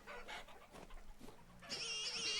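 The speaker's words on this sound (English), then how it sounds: "Oh, and I got to kill these chickens too." Chickens in the video game Vintage Story cluck and squawk in a short run of harmonic calls, and a sharper, sustained call rises near the end.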